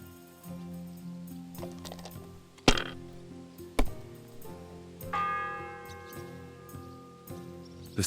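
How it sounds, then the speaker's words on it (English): Church bell ringing inside Kingdom Come Deliverance 2, with a long sustained metallic tone and two sharp struck hits standing out over a layered background of ambient game sound. "The 7th bell."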